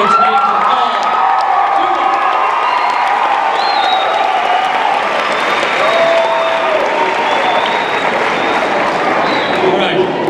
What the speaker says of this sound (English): I don't want you to hold your applause.